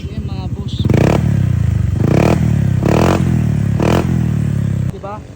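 A scooter fitted with a KVIN aftermarket exhaust pipe revs hard in four loud, evenly spaced bursts, each climbing to a raspy high-RPM roar, with a short idling burble before and after and brief talk at the start.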